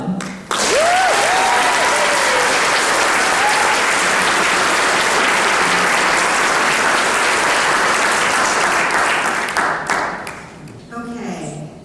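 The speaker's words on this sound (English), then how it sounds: "please join me in giving a loud, love-filled round of applause as we welcome Robin" Loud, sustained applause from the audience at a donor and volunteer event welcoming a speaker named Robin, with a few cheers early on, dense clapping for about ten seconds before fading as someone begins to speak.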